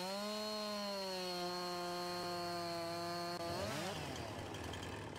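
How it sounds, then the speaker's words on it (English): A chainsaw in the Farming Simulator 19 forestry game runs at a steady, sustained buzz while cutting into wood, then shifts pitch sharply near the end as the blade bites through the log; no talk over it. "So we want to break out the chainsaw again, and we want to cut right about there."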